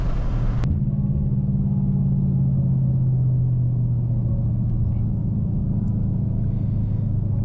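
A Saleen Mustang driving, its engine a loud, steady low rumble heard from inside the car, beginning with a sharp click and then holding a sustained drone that slowly eases in pitch.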